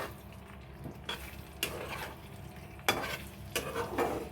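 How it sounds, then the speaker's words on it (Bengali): A spice mixture being stirred into potatoes in a pot just off the heat, with a faint sizzle under repeated scraping and knocking of a spoon against metal, close and without talk. "দেখো এবার পুরোটা আলুর সাথে ভালো করে মশলাটাকে মিশিয়ে নেব"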